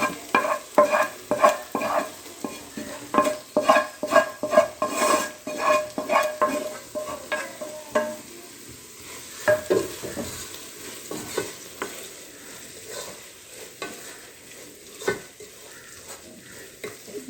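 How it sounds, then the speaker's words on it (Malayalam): Metal utensil stirring fried prawns in a sizzling pan for prawn biryani, with a steady frying hiss and repeated clinks throughout, close and fairly loud. "അതിലേക്ക് നമ്മൾ ഈ ഫ്രൈ ചെയ്ത് വെച്ച ചെമ്മീൻ ചേർക്കും"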